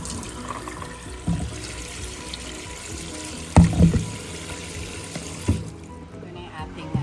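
Fruit is rinsed under a running tap, with steady water flow and a few louder splashes and knocks as it is handled in the sink, close by.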